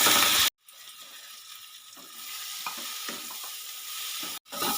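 Fried potatoes being stirred into hot, oil-releasing masala for a hilsa curry with onion and garlic, giving a soft continuous sizzle with scraping spoon strokes against the pan, framed by brief louder bursts at the start and end.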